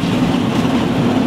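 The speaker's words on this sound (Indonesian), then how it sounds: "Kayak gini ya kereta apinya." Tourist train ride at The Silas Bedugul, a loud, steady rumble with a low droning hum running continuously, close and without talk.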